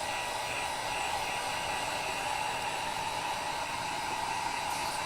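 A hair dryer runs steadily to dry a cleaned transfer, a constant loud whooshing hum with no breaks, close to the microphone and with no talking over it.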